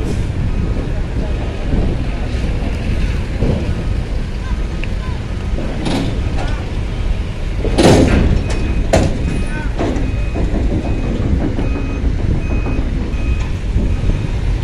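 Trucks at a ferry dock give off repeated reversing beeps over a steady rumble of engines and harbour noise, with a louder passing surge midway.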